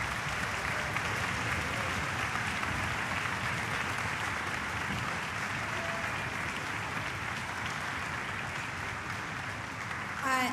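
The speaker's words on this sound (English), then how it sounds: "tt Stutzman, Rob Rempher, and Harry Davidson a big round of applause" Sustained applause from a concert audience at a student orchestra concert, a dense, steady wash of clapping filling the hall for the whole stretch without a break.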